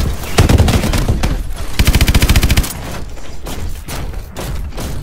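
Swarm missiles fire in the video game Call of Duty: Advanced Warfare: loud, close, rapid volleys of launches and thuds, including one tight machine-gun-like burst, then a steadier rumble of further blasts.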